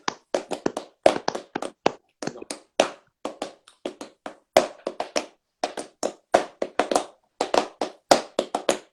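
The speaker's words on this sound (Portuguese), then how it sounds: "Tô combinando as duas palmas." Flamenco palmas mixing two handclap styles, crisp bright claps alternating with duller muffled ones in a steady, driving compás rhythm, closely miked, dense and continuous with accented strokes and no talking.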